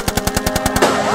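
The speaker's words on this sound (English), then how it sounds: "And the last thing he heard was a gunshot blast." Rapid burst of about eight loud gunshots in a steady automatic rhythm, used as a sound effect in a song, ending with a lingering echoing tail.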